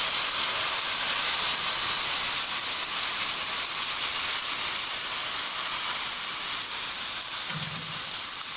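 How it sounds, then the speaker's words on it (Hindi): Milk poured into a pan of frying vermicelli for sweet Eid seviyan brings a steady, loud hissing sizzle that holds evenly throughout with no talk. "मैं इसमें 1 किलो दूध ऐड करूँगी"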